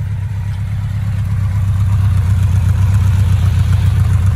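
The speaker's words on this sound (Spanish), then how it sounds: "De hecho, le noto el ralentí un poquito caído." A Yamaha XJR 1300 cafe racer motorcycle engine idles just after a cold start, holding a steady, low rumbling idle close by for the whole stretch, with no one talking.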